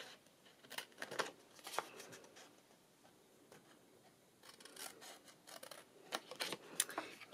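Scissors snip along scored lines in paper for a small treat box, giving quiet, close, irregular clusters of short crisp cuts separated by brief pauses.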